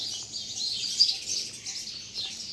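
Small birds chirp around little birdhouses set up near a mini lotus pond in the Shoolpaneshwar forest along the Narmada, with a continuous high twittering from several birds and one brief sharper call standing out near the middle.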